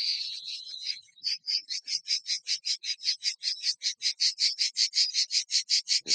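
Cicadas in Provence sing loud and close, a shrill rasping trill that breaks into a fast, regular train of pulses repeating steadily, with no voices.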